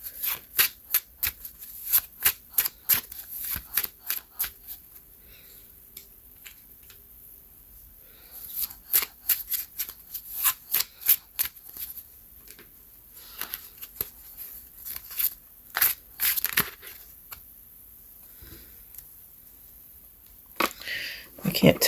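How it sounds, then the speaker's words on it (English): A deck of tarot cards shuffled by hand in repeated riffling bursts, each a crisp papery flutter separated by brief pauses, close and fairly loud. "let's try shuffling in cards and see"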